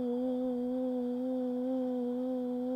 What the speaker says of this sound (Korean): 립트릴처럼 입술을 푸 해주시는 거예요